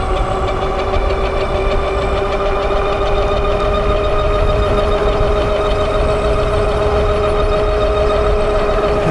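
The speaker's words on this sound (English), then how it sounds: "that's the kind of horn I like" Horn on a cheap dual-battery Tamobyke e-bike, heard as a loud, continuous steady tone with stacked harmonics that holds without a break, close and alone with no talking.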